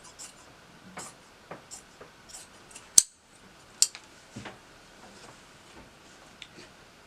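Scissors snip through skirt fabric for a six-piece African-style skirt, a few quiet soft cuts and rustles with one sharper clip standing out, close and alone.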